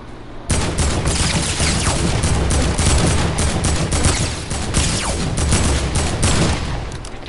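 An AK rifle in a video game fires in sustained, rapid automatic bursts, loud and dense throughout after a brief quiet start, with no voices over it.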